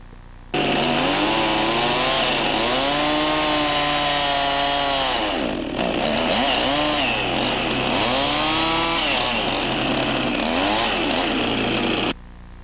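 A chainsaw cuts a tenon on a log post, loud and close, its engine note rising and falling as it bogs into the wood and revs again, with a short break midway before cutting resumes, then stopping.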